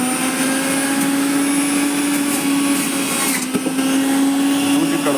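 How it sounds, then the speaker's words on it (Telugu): A Sujatha juice mixer grinder runs steadily with a loud, constant motor whine and a high buzzing hum, continuous throughout with no talking. "ఇది సుజాత మిక్సర్. ఎంత? 6500. ఓకే, సో నేను ఆన్ చేస్తున్నా."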